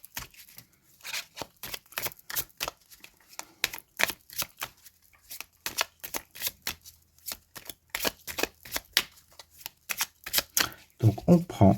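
A deck of tarot cards riffled and shuffled repeatedly at close range, quick papery bursts in irregular rhythm, with a brief low sound at the very end.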